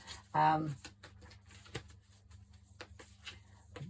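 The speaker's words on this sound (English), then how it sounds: "Let's have a shuffle with these. These are my Moonology cards" Moonology oracle cards are shuffled by hand in quick soft riffling bursts, a louder flurry at first followed by lighter intermittent card taps, faint and close.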